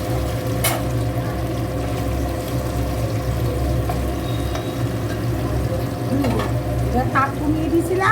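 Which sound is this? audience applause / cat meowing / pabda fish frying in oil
pabda fish frying in oil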